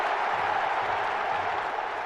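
A stadium crowd in the London 2012 video game applauds and murmurs in a steady, dense wash of clapping, even and sustained throughout.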